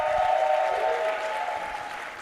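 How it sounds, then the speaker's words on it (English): Audience at the Pan-African Youth Adaptation Forum applauding the University of Nairobi, Groningen and MUS professors, a dense, steady round of clapping from a sizeable crowd, lasting throughout. "A big applause for them"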